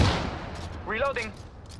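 Gunfire in Apex Legends on the Olympus map: a short burst of shots at the start, then a brief voice line partway through, with steady game noise underneath.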